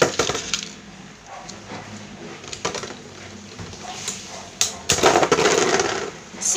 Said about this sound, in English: See that, guys? It bursts so easily.